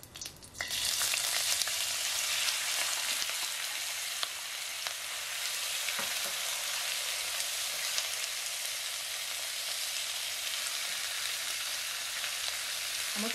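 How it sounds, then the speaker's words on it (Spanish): Chicharrón (pork crackling) sizzles steadily and loudly in a frying pan, a dense continuous crackle filling the whole stretch with a few sharper pops, recorded close with no voices. "vamos a sofreír lo que es el chicharrón"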